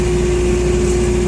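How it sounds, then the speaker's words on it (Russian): A Nissan FG20 two-ton forklift engine runs outdoors in cold weather, a loud, close, even idle with a steady droning hum and no voices. "Сразу покажу, как работает двигатель"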